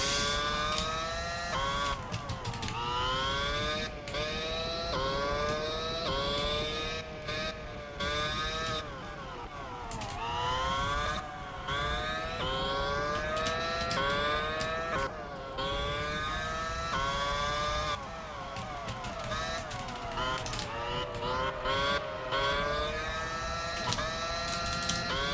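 Simulated Formula One race car engine in Grand Prix 4 on a 2007 season race with a McLaren, whining continuously and loudly with rising and falling pitch through repeated gear shifts and corners, sustained throughout.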